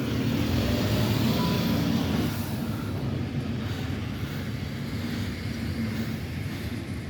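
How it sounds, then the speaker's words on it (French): A Paris RER B commuter train emerges from a tunnel at Pont Marcadet, heading toward the airport. It gives a steady, loud broadband rumble that stays strong from start to end and eases a little after the first two seconds. "on a un RER B qui va faire sa sortie du tunnel en direction de l'aéroport"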